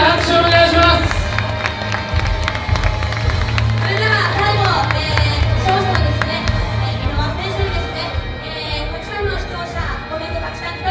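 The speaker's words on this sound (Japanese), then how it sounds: "皆さん2人に大きな拍手をお願いします。" An audience at a Japanese boxing event claps and cheers in a lively wash of applause while music plays and a voice carries over the crowd.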